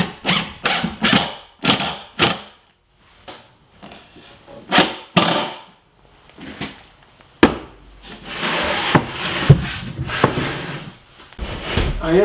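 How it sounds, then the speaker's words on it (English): One-inch screws are driven through the plywood back of a desk cabinet, heard as a run of short whirring bursts and rasps, followed by a longer, denser stretch of rough grinding and knocking, all close up. "now I'm going to attach the back with 1 inch long screws"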